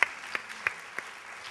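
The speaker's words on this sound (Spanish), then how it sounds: "Un aplauso para Carmeli" Audience applause at a charity gala in a hall, heard as a few sharp, separate claps spaced through a brief, fairly quiet stretch rather than a full ovation.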